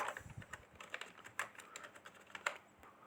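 Quiet, steady keystrokes on a computer keyboard while PHP loop code is typed in, with light taps spaced unevenly and a few slightly louder hits.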